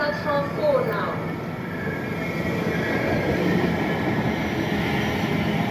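A train rumbles at a station platform, a steady rolling roar with a brief squeal of wheels or brakes early on, close and continuous on the Elizabeth Line.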